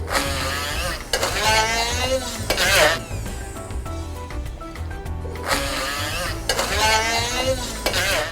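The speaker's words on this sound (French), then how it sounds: "avec le petit mix soupe, on va mixer le tout" Small hand blender whirring in loud bursts as it blends mustard, egg yolk and oil into a sauce for a vegetarian Buddha bowl, with two strong pulses separated by a quieter stretch.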